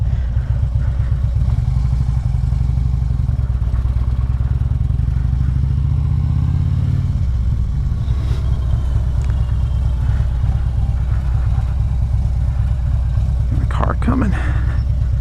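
A 2014 Harley-Davidson Ultra Classic rides along with a deep, steady engine rumble that later fades under loud wind buffeting, and a few brief spoken remarks are heard.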